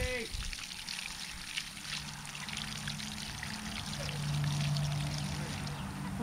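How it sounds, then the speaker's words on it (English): Water pours steadily over freshly harvested sweet potatoes as mud is washed off, a continuous close rushing stream that swells slightly toward the end. "I'm just going to wash the mud off of these."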